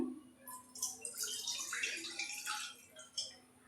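Milk is poured into a pot for sweet potato payasam, a soft, continuous splashing and gurgling pour lasting a few seconds with a faint background hum.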